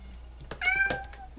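A phone ringtone imitates a cat's meow, giving one short, clear, rising-and-falling call close up in a quiet room.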